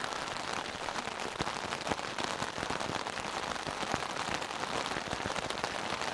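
Heavy rain drums on a Big Agnes Tiger Wall UL2 ultralight tent, a dense, constant patter of drops with sharper individual taps scattered throughout, heard from inside and without any talking.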